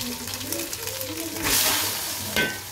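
Ginger-garlic paste hits a pan of fried onions with a loud, close sizzle, and a burst of spitting oil swells midway as the mixture is stirred and scraped.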